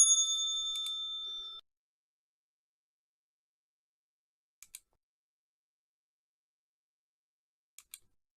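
A single bright bell ring that sustains and fades over about a second and a half, followed by silence and two brief pairs of faint clicks.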